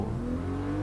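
Toyota Supra RZ 1997 in Gran Turismo Sport revving hard toward an upshift near 7,000 RPM, a loud, steady engine drone with a rising tone, close and alone.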